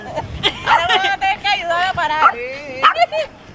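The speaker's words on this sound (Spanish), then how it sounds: "es la única que está ladrando" A dog at Crocker Park barks and yips repeatedly in short bursts, close by, mixed with a babble of people talking around it.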